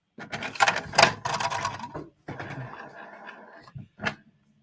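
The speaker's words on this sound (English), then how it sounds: "So got printer noises and stuff" A printer is running, making mechanical whirring and clattering bursts in several uneven stretches, then a final short clunk, all close by.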